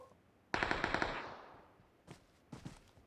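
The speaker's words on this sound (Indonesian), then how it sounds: "Nembak siapa dia?" Automatic gunfire in the PUBG Mobile video game: one loud rapid burst of shots, followed a moment later by a few separate bursts, with no talking.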